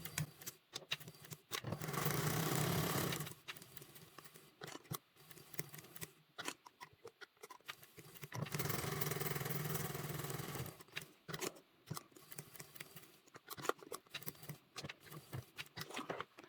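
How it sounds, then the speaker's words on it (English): A sewing machine stitches along the lines of a bag's zipper box with a short stitch length, running in two sustained bursts with pauses and small handling clicks between them, close and fairly quiet. "So we're sewing right on those lines with the shorter stitch length."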